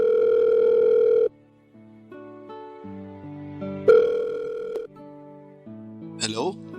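A telephone call waits to be answered, with a steady ringback tone sounding loud for about a second, then music-like tones and a second short burst of the tone.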